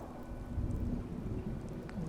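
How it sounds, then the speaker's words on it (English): Rain falls steadily with low rumbling thunder in the Fallout 4 video game, a dense, even wash of rainfall over a deep rolling rumble, with no talk. "Oh, it's raining now."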